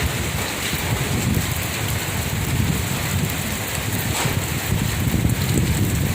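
A rainstorm with wind, a dense steady hiss of heavy rain on surfaces with low gusty rumbling underneath, sustained and fairly loud with no voices.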